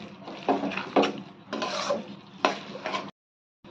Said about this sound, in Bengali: মশলার সঙ্গে ভালো করে কষিয়ে নিতে হবে।